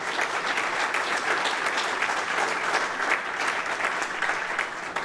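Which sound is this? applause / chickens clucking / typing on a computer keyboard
applause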